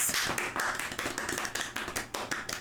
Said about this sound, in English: Actual round of applause.